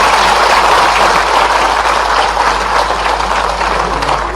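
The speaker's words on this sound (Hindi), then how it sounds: "जोरदार तालियां बजाए इस बात के" Loud, dense applause fills a large state-level conference hall in Bhopal, a steady roar of many hands clapping continuously throughout.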